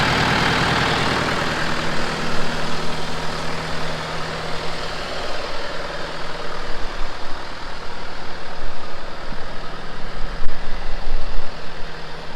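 A John Deere tractor's engine idles with a steady, loud low rumble and fairly even texture throughout, as a Royal Enfield 650 motorcycle hangs from it outdoors in the wind.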